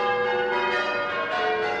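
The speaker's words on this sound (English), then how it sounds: "In Newcastle, cathedral bells tolled for an hour this morning" Newcastle cathedral bells toll in a steady, ringing wash, with sustained overlapping tones that hang continuously and sound moderately distant.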